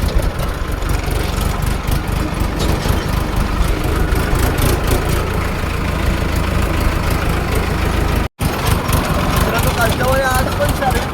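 A farm tractor's engine runs steadily, a continuous close, loud throbbing rumble, with indistinct voices toward the end.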